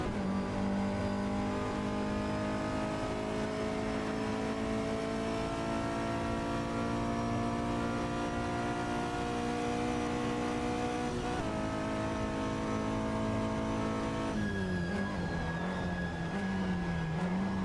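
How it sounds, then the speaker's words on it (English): Ferrari race car engine in a vintage GT racing game, a steady high-pitched whine holding revs, then a sharp shift and downshift near the end as another car closes in, loud and continuous with no talking. "So looks like a Ferrari coming up now."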